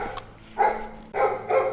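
A dog barks near a house wall in three loud, close bursts, each lasting about a third of a second, with quieter stretches in between.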